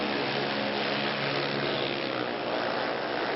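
Drag racing cars launching down the strip at a PDRA Fall Nationals final, a loud continuous roaring engine drone heard from a distance.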